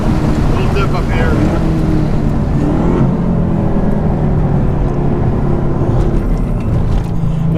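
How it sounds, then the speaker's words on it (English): A Camaro ZL1 accelerates hard on an open road with paddle-shifted gear changes, its engine a loud, continuous roar heard from inside the cabin amid heavy wind and road noise. "Now that's paddle shifting, right?"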